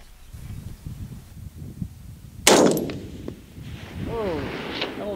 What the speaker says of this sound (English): Got one more shot.